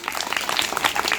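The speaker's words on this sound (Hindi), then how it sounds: "तो जोरदार तालियां होनी चाहिए वीर दिवस के शुभ अवसर पर।" An audience applauds at a primary school Veer Diwas event, a brief dense burst of many hands clapping together, steady and fairly close.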